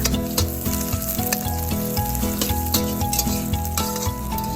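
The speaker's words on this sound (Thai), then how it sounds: "หลังจากนั้นเราก็นำกระเทียมที่เราทุบไว้ค่ะ ลงไปเจียวให้เหลืองหอมเลยค่ะ" Crushed garlic frying in oil until golden for Thai stir-fried cabbage with fish sauce, a loud, constant sizzle with light crackles and faint clinks, and no talking.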